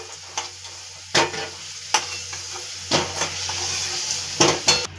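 Potatoes frying in hot oil with turmeric, a steady close sizzle broken by several sharp spatula scrapes and stirs against the pan, no voices.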